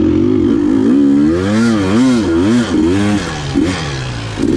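Dirt motorcycle climbing through a rocky ravine on a trail, engine close and loud, revving up and down in wavering surges as the rider works the clutch over rocks.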